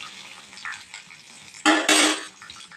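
Urad dal sautés in hot oil in a pan, with quiet scraping and light clinks giving way to two loud, bright bursts of sizzling as the lentils are stirred, and no talking.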